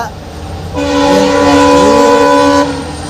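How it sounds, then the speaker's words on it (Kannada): A goods train's horn blares loudly for about two seconds over the heavy rumble of the passing train. "ಅದು ಗುಡ್ಸ್ ಟ್ರೈನ್ ಗುಡ್ಸ್ ಗುಡ್ಸ್"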